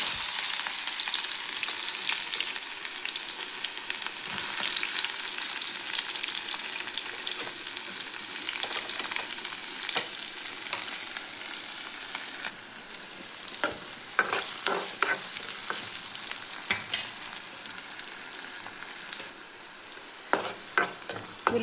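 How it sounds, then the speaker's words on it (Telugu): Onions frying in hot oil for a mutton fry, giving a steady, close sizzle with occasional stirring scrapes and crackles throughout, with no talking. "ఉల్లిపాయలు ఇలా వేగినాయి కదా"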